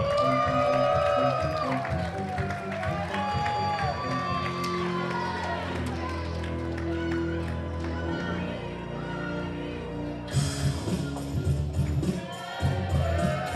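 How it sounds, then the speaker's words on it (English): A crowd at a wrestling show cheers and applauds as Johnny Casimir is called out, the noise steady under loud entrance music, with a voice coming in near the end. "everybody give a big round of applause for Johnny Casimir"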